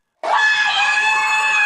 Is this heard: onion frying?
no